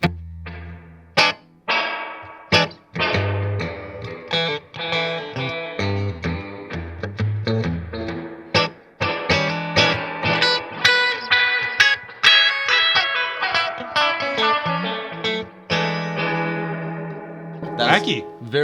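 Electric guitar played through a digital spring reverb set to high pre-delay, loud distorted chords and picked notes with long, splashy echoing tails that smear together over nearly twenty seconds of continuous playing.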